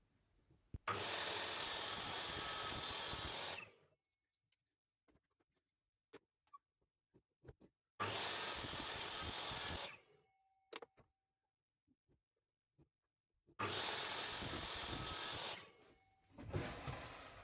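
Saw cutting small square wooden coasters in a workshop, three loud close strokes of about three seconds each, separated by near silence with faint clicks.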